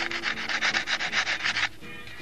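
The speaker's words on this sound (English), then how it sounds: "I can get a nice tooth sanding it with 100 grit" Rhythmic back-and-forth strokes of 100 grit sandpaper on a model aircraft part, about a dozen quick raspy rubs close to the mic, ending abruptly into quiet.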